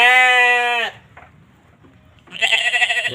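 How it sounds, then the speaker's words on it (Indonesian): Jawa Randu and Etawa goats bleating in a livestock pen, two loud, close, wavering bleats separated by a short quiet pause with faint rustling. "kambing Jawa Randu dan Etawa"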